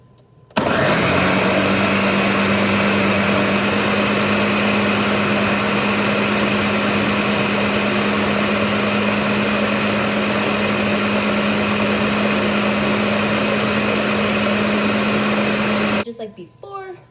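A kitchen blender whirs loudly and steadily for about fifteen seconds as it blends food, then cuts off abruptly at the end.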